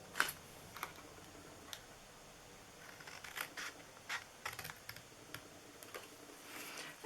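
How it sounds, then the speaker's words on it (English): Scissors cutting the corners off paper for an Easter basket, heard as faint, scattered short snips and crisp paper rustles in a quiet room. "I'm going to cut this one off."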